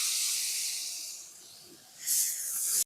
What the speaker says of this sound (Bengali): রসুন পেঁয়াজ নাল করে ভেজে নেওয়া হয়ে গেছে, এবার কাঁঠাল আমরা দিয়ে দিলাম